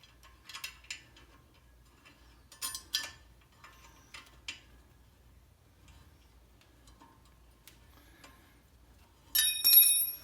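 An Allen key tightens a screw on a Maserati Ghibli brake assembly during a brake and rotor replacement, making a few quiet, scattered clicks and ratcheting ticks, then a short louder metallic rattle at the end, with no talk.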